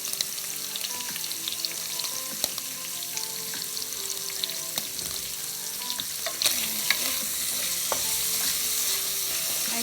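Seasoned shrimp with black pepper stir-fried quickly in a pan for pancit guisado, a steady close sizzle with crackling pops and occasional clinks of the utensil, no voices.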